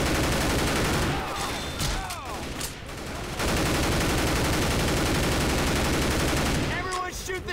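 In Left 4 Dead 2 gameplay, gunfire pours at the Tank in rapid fusillades of shots, loud and dense, with a brief lull midway and a clipped voice breaking in near the end.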